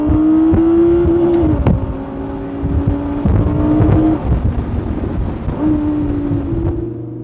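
An Audi sports car's non-turbo engine screams at high revs up to nearly 9000 rpm, its pitch holding steady, then dropping and climbing again through gear changes, loud and close with road noise.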